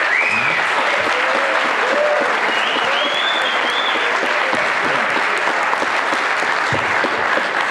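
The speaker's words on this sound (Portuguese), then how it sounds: "Uma salva de palmas para todo mundo aqui," A crowd at a game jam's closing presentations clapping and cheering, dense and loud for several seconds with whistles and whoops rising over the applause.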